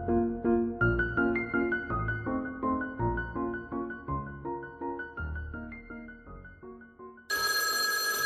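An old-fashioned telephone rings in a series of loud, bell-like bursts, one after another, ending with a harsh, noisy blast. No voices are heard.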